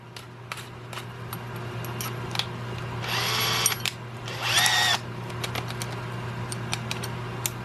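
Power drill fitted with a custom-made spade bit boring a hole in walnut, a steady whirring hum with two brief louder bursts as the bit bites into the wood, set against a quiet workshop background.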